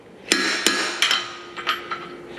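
An improvised hammer taps on a saw part during a function test, about six sharp metallic strikes with ringing tails, the first few louder and quicker, the rest lighter and spaced out, with no talking.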